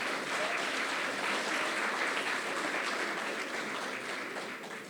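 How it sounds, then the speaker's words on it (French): An audience at an eloquence contest gives steady, sustained applause, a dense even wash of many hands clapping from start to finish. "qu'on applaudit très fort"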